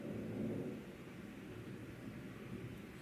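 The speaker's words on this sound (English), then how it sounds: "Can you hear that? Some thunder rolling in." Distant thunder rolling low and steady, a soft rumble with a slightly louder swell at the start, under a wash of rain-like background noise.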